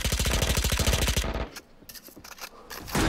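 Rifle fire in a competitive first-person shooter match: a fast, evenly spaced burst of loud shots, followed by a few scattered, quieter shots after a brief lull.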